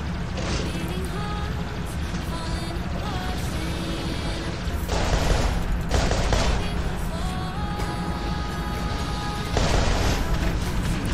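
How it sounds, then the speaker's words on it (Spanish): Gunfire from robots in the video game War Robots, with a few sharp shots cracking over a busy, constant game soundscape. "Son dos disparos, ok."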